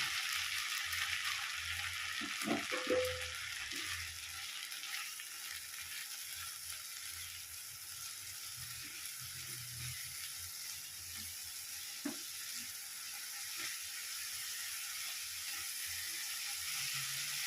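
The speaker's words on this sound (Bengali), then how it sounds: "এবার আমি 3 থেকে 4 মিনিট মশলাটা ভালোভাবে কষিয়ে নেব।" Soaked spice paste sizzles as it fries in a pan, a steady hiss running throughout with a few soft stirring scrapes near the start, close and quiet, no talking.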